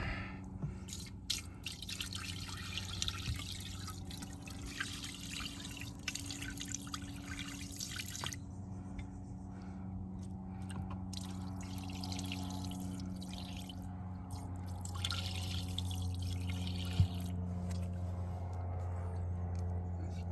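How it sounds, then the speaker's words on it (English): Liquid drips steadily from a Jeep CJ intake manifold being resealed and restored outdoors in a driveway, a faint, irregular patter of small drops under low background noise, with no talking. "it's dripping."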